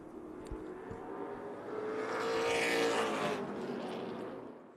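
Race cars at Tucson Speedway roar past, with a steady engine drone swelling to a loud peak as the pack nears and then easing off, no talk.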